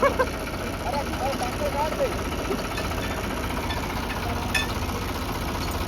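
A New Holland combine stuck in a deep pit strains against tractors pulling it free, their diesel engines labouring in a continuous heavy, knocking drone, with voices faintly heard over the noise.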